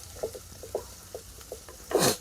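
Onions frying in a clay pot over a wood fire for a beef dish, with soft intermittent sizzles and stirring scrapes, then a louder burst of sizzle near the end.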